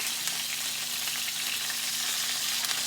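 Beef tenderloin steak sizzles steadily in a hot pan as it is turned, a dense, close, even frying hiss with no pauses and no voices.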